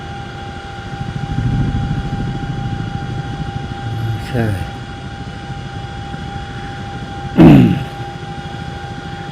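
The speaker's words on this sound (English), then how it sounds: "I love this helicopter." Steady droning rotor and engine noise of a Chinook helicopter at Middle Wallop throughout, with a brief spoken word and a couple of sharp knocks over the hum.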